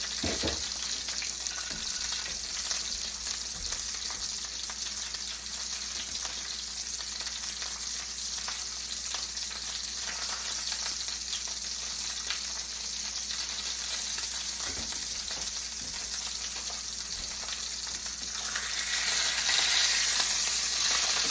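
Brined steaks sizzle loudly and steadily in a hot pan, a continuous broadband frying hiss with a few clunks as they are flipped, swelling slightly louder near the end.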